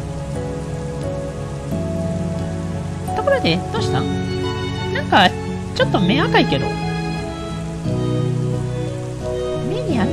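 Rain patters steadily across a scene in the game Dragon Truster, a soft continuous hiss under voiced dialogue between characters with musical tones mixed in.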